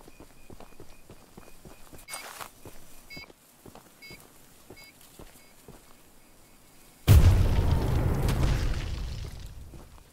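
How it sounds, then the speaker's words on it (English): A dynamite charge detonates in the video game Choo Choo Charles: after a stretch of quiet footsteps and small clicks comes one sudden loud boom that rolls on as a long, fading rumble. "That explosion radius is no joke, actually."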